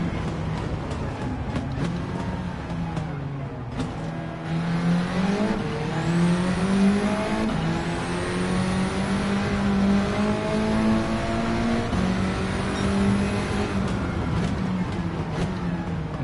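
A Honda EK Civic with a swapped engine revs and pulls hard in Gran Turismo 7, its rising engine note climbing through gears with brief dips at shifts, loud and continuous.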